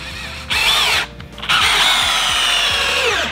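A power drill drives a screw through two stacked 2x4 boards in two close, loud bursts of whirring, high-pitched motor whine, split by a brief pause, with the motor winding down at the end.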